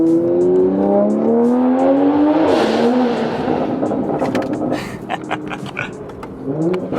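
A tuned 2020 Toyota Supra with full exhaust, tune and intake accelerates hard through a tunnel, the engine note sweeping up through the gears with turbo whoosh, then fading into echoing road and exhaust noise.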